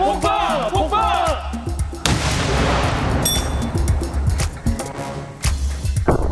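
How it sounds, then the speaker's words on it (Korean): An improvised explosive device with three power sources is blown apart by a water jet disruptor, giving a loud, sharp blast followed by a long, roaring, noisy rumble and debris settling outdoors. There is some voice early on. "전원 장치가 3개나 있는 폭발물을 워터젯으로 한 번에 폭파, 완벽하게 처리했습니다"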